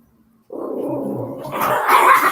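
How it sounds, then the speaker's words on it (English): Dogs growl low and steadily, then break into louder, higher barking and yipping, close by and with no voices. "my puppies went crazy"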